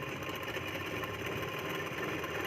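A sewing machine stitches along the edge of blouse fabric at the button placket, giving a steady, unbroken mechanical whir with a faint vibrating rattle, close and even throughout.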